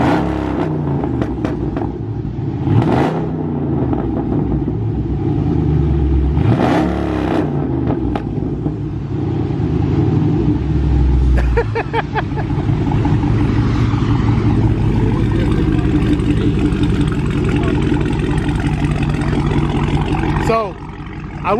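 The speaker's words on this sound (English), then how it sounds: "Let me see if I rev it a little bit. Rev it up and see how he likes it." A car engine idles and is revved in several bursts, each climbing and falling back, close and loud, with someone talking over it at times.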